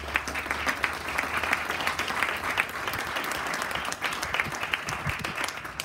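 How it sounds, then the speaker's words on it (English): A crowd at the opening ceremony of the UCLA Veteran Family Wellness Center and Legal Clinic applauds continuously. The clapping is dense and moderately loud and sounds a little distant, and it carries on for about six seconds. "let's give them all a big round of applause."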